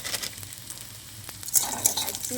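Maggi noodles fry and get stirred in a pan with browned onion and chili, a soft sizzle broken by scraping stir strokes and a couple of louder clatters near the end.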